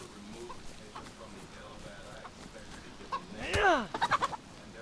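Chicken in the video game DayZ giving a short burst of clucks near the end, preceded by quieter background movement and faint voice-like murmurs.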